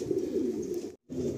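A pigeon coos in low, soft, continuous murmurs close by, with a brief moment of silence before the cooing resumes.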